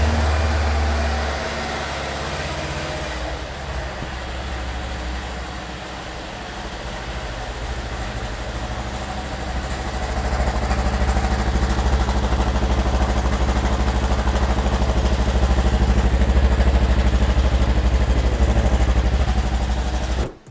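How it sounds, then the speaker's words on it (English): Segway Villain motorcycle on its factory exhaust, a steady low engine rumble that idles evenly and then rises slightly in level partway through, running alone with no talking. "I'm gonna let you guys hear the factory exhaust so we have a comparison in this video as well."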